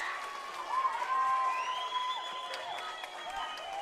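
Spectators cheer and clap at an under-14 girls' netball game, a lively swell of crowd noise that carries under a commentator talking over it.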